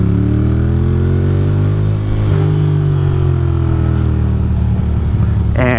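A Ducati motorcycle cruising on the road, its engine a loud, steady drone throughout with one brief change in pitch partway through and rising revs right at the end.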